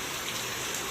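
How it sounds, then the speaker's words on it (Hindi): Heavy rain pours down outdoors during a storm, a dense, constant hiss of falling water with no breaks, loud and close. "बट बहुत तेज बारिश है।"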